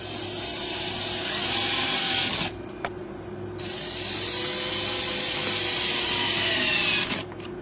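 A power driver whirs steadily as screws go into a Jeep Wrangler JK tail light, two sustained runs split by a short gap with a click, close and loud.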